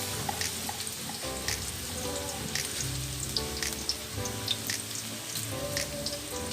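Ginger frying in oil for pesang isda tilapia: a continuous, moderate crackling sizzle with small pops, layered over steady tonal background sound.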